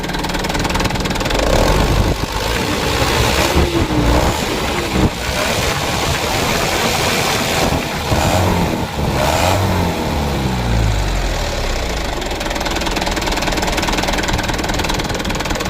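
A new car's engine is revved repeatedly while its tuning is checked for jerking, loud and close, rising and falling through several throttle blips before settling toward idle.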